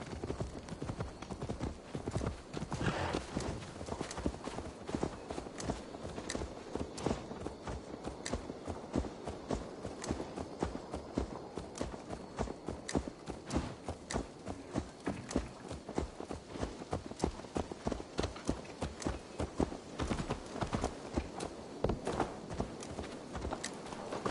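Horse hooves clip-clop steadily in Assassin's Creed Valhalla, a quick, even rhythm of close, crisp hoofbeats running unbroken throughout with no talk over them.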